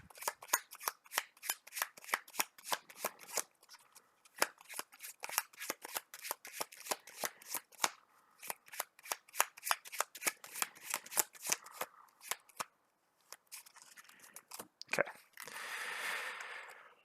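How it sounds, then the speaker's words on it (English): A deck of cards for the Marvel Champions card game being shuffled by hand close up, a long run of rapid riffling snaps and flutters in repeated bursts, with short pauses and a final whooshing bridge. "Shuffle our deck."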